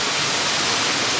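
A waterfall at the end of a hiking trail roars steadily as a dense, even rush of falling water, loud and close, with no voices over it.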